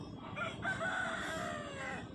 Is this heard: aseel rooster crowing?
yes